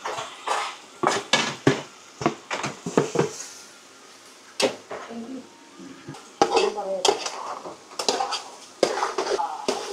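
Marinated chicken stirred in a pan for Dhaka-style bhuna, with repeated sharp scrapes and clanks of a metal utensil against the pan over a faint sizzle, in irregular bursts.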